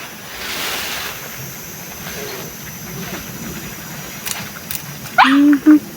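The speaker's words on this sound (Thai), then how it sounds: "ลมเลย" Wind blows outdoors in a rural Thai setting where wood is being cut for posts, a steady broad rushing gust with a brief louder noise near the end.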